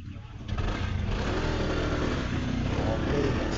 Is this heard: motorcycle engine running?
yes